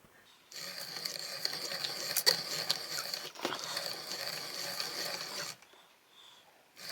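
A power drill whirs steadily at close range for about five seconds, grinding through wood with slight fluctuations, then stops; quiet room sound before and after.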